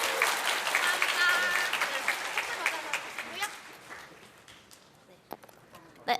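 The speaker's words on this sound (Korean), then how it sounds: "다시 한번 강대성님께 큰 박수 부탁드립니다." Audience applause at a lightning talk during PyCon Korea 2019, a dense wash of clapping that swells early and thins out over about six seconds, with a few scattered claps and voices near the end.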